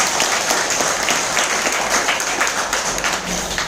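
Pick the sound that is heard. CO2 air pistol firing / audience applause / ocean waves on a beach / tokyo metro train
audience applause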